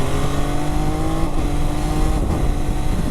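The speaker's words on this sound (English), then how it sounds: "this gear shift with the quick shifter is absolutely bloody brilliant" A Triumph Daytona 660 motorcycle riding on the road, engine note steady and loud with two brief dips as it shifts gears through the quick shifter, plus wind noise.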